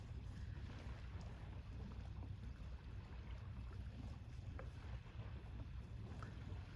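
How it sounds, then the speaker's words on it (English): Soft waves on open water: a faint, continuous wash with small lapping splashes, calm and distant. "Love hearing the waves."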